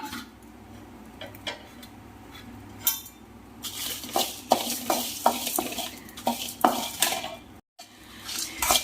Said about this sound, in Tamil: இப்போ இந்த இன்க்ரீடியன்ட்லாம் போட்டு நான் ட்ரை ரோஸ்ட் பண்ணிக்கிறேங்க.